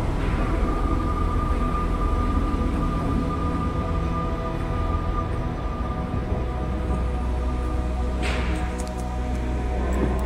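An ICE 4 high-speed train hums and rumbles steadily nearby, with a faint high whine and a brief metallic hiss near the end.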